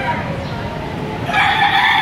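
At a cattle market in Padre Garcia, Batangas, a rooster's crow swells out of steady crowd noise in the second half, moderately loud against the market bustle.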